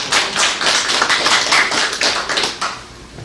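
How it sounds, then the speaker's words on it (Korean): Group clapping during a speech at a regular meeting of a Korean association, steady dense hand claps lasting the whole stretch and easing slightly toward the end, with no talking over it. "정말 이걸 박수 한번 쳐드립니다"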